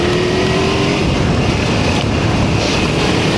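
A Kawasaki Versys 300 motorcycle engine drones steadily while riding on road and trail, heavily buried in loud, constant wind rush and buffeting, with a slight pitch shift early on.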